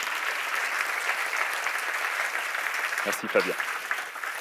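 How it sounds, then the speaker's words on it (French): Audience applause at a local university final of a three-minute thesis contest, filling most of the clip as steady clapping, then a voice briefly speaks near the end. "Sous vos applaudissements"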